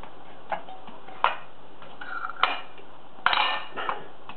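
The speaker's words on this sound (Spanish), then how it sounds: "Para ello la vamos a pinchar con el tenedor un poco." A fork pierces a raw potato several times in a kitchen, producing sharp, separate metallic clicks and taps spread unevenly across a quiet background.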